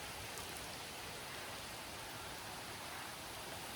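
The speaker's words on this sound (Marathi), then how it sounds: "आज थोडासा चक्क मोठा पाऊस यायला लागलाय" Heavy rain pours down steadily in a dense, unbroken roar of drops, loud and constant from start to finish, with no voices.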